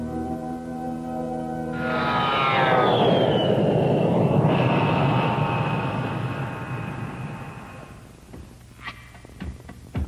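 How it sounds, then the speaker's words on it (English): A Fairchild A-10 Thunderbolt II military jet passes by at an air base, its whining engine roar swelling loudly over a few seconds, then sweeping down in pitch and fading, followed by a few scattered knocks. "the airplane designed by Fairchild specifically to kill tanks. The A-10 Thunderbolt II."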